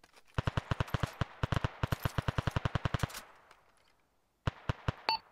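Suppressing rifle fire in Arma 3, a rapid string of sharp, close shots in two bursts, a short pause, then a few more cracks, loud and distinct with no talk over them.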